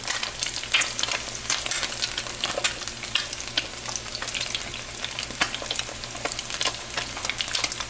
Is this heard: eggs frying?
yes